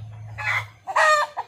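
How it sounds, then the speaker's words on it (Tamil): A hen settling down to lay an egg gives two close, throaty clucking bursts, the second longer and louder, over a low background hum. "கோழி வந்து முட்டையிட உட்காந்துருக்கு"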